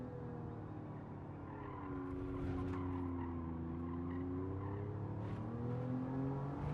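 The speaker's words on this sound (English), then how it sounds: "So I'm going to brake, just hold that brake." A race car in Gran Turismo brakes hard, its tires skidding and squealing in a sustained, wavering whine over a steady engine drone, with no talk.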